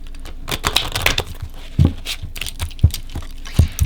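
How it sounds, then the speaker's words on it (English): Tarot cards are shuffled in quick, irregular riffles and taps, a close crisp rustle with a few sharper snaps. "Let me give these a quick shuffle here."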